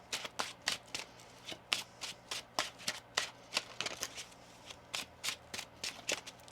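A deck of tarot cards is shuffled by hand in a quiet room, giving about two dozen crisp, evenly spaced snaps and flicks close to the listener, with no talking.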